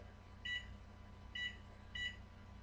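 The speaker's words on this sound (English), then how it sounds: "we will go ahead and set our timer here." Three short electronic beeps from oven timer buttons as a kitchen timer is set, quiet and spaced apart over a low room hum.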